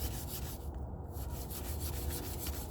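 Rough, continuous rubbing scrubs grime from an Ugly Stik fishing rod near its line guides, a close, steady friction noise with no voices.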